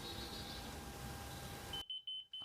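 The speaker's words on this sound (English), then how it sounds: "I'm just gonna slide it up until it starts to beep" After a noisy stretch, a laser level gives a series of short, high-pitched electronic beeps in quick succession, close and clear.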